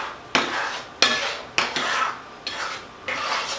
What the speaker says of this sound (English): So I'm going to just stir that in.